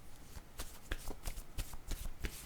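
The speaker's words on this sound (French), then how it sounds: "Allons-y avec la carte du temps." Tarot cards are shuffled by hand at close range, a series of quick riffling slaps and flicks in an uneven rhythm, with no talk.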